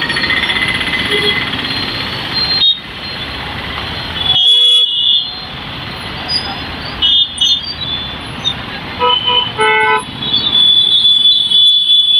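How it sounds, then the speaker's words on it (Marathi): Heavy traffic jammed at a road junction in the Baramati MIDC industrial area, with loud, repeated car and vehicle horn toots of varying length over a constant engine roar. "या ठिकाणी ट्रॅफिक झालेला आहे"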